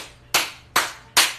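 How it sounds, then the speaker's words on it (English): Three sharp hand claps ring out alone at an even, unhurried pace, each one loud and close with a short decay. "clapping your hands, stomping your feet is grounding"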